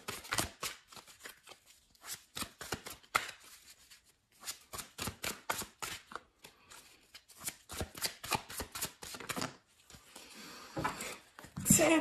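Tarot cards being shuffled and handled in repeated crisp riffling bursts, close and clear, with brief pauses between flurries.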